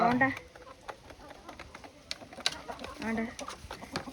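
Chickens in a backyard flock giving short scattered clucks and calls, close by and fairly faint, mixed with people talking.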